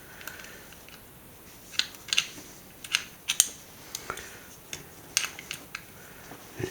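A mobile phone watch being snapped back together, with a series of sharp small plastic clicks and taps spread irregularly over several seconds, close and fairly quiet, with no voices.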